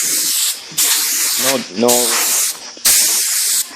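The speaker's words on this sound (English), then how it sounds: "Now you take your air, just make sure it's really dry." Compressed air hisses in several short sprays over vinyl seats being prepared for dye, loud bursts separated by brief pauses, with someone speaking briefly between them.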